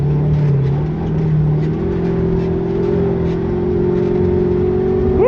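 A car fitted with a Mendeola / Weddle S4S dogbox transmission accelerates and shifts, the engine note climbing and dropping between gears, loud and close from inside the car without speech.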